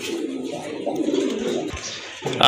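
A female racing pigeon coos close by, a soft, throaty, rolling coo lasting a couple of seconds, with a brief sharper sound right at the end.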